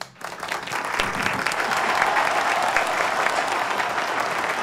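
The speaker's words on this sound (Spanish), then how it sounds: "le vamos a dar unos aplausos a Nachi." Sustained applause from a live-stream studio audience, loud and dense with steady clapping throughout after a brief quiet start.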